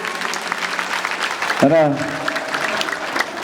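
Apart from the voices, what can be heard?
audience applause welcoming speaker on stage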